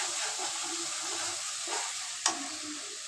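Spice paste sizzles and fries in a pan while being prepared for a meat curry, a steady close hiss with brief stirring scrapes and one sharp clink near the end.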